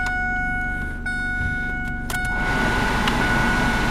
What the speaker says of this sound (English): I'm going to try the air conditioning.